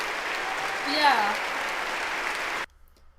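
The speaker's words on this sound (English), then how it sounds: "Oops! I clapped it again!" A burst of applause, a dense wash of clapping mixed with cheering voices, loud and close, cutting off abruptly near the end into quiet.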